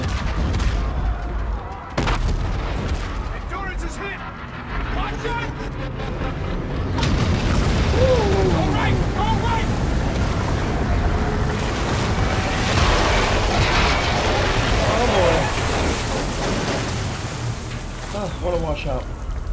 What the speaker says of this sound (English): Our Aedis guns are still firing on our fleet.